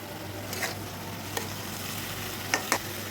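Figs frying in a pan with turmeric and chili powder give a steady, soft sizzle, broken by a few sharp spatula scrapes near the start and two close together toward the end.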